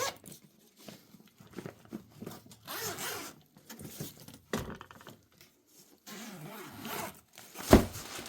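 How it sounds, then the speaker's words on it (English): Zippers on a golf cart bag being opened: several quick zipping runs with rustling of fabric and plastic between them, close and clear, ending in a sharp scrape. "Few more zippers on the side."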